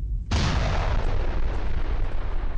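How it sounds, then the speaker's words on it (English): In the space station game Space Station 13, a big explosion bursts suddenly after a brief lull, then rumbles loud and broad for over two seconds with no voices over it. "And there's a big explosion."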